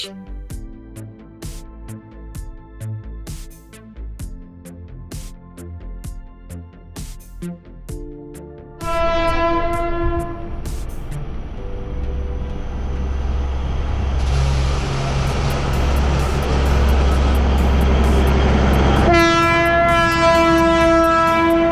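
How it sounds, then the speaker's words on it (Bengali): The Darjeeling Himalayan Railway's mountain train rumbles along steadily, its loud horn blaring in long sustained blasts, alone with no talking. "বিশ্ব ঐতিহ্যের তালিকাভুক্ত দার্জিলিং হিমালয়ান রেল বর্তমানে পশ্চিমবঙ্গের দার্জিলিং শহর থেকে ঘুম পর্যন্ত চলে"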